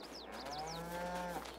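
Cows on a farm give one long, drawn-out moo that rises and holds before cutting off, with faint bird chirps earlier and steady outdoor background noise.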